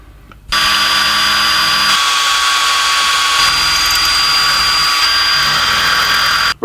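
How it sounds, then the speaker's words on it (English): A power drill running at high speed in non-hammer drill mode bores into a hard metal stand, a loud, steady high whine held for about six seconds before cutting off. "You want the drill speed on high for this and non-hammer. Just make sure the drill is set to drill mode."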